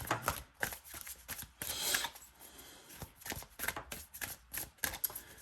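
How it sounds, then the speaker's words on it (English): Stiff tarot cards are shuffled repeatedly up close, a series of quick riffling bursts and taps separated by short pauses. "These cards are really hard to shuffle."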